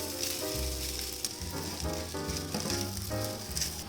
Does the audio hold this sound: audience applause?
no